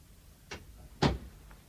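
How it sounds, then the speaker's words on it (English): A door in an old British stage play is pushed shut indoors, a soft knock followed half a second later by a louder, close thud, with quiet room tone around it. "You'd better shut that door and sit down."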